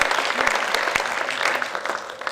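An audience applauds at an awards ceremony, dense steady clapping with several sharp, nearer claps standing out, and faint voices underneath.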